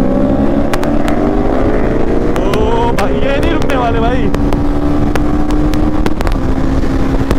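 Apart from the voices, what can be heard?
Ducati V4S superbike engine revving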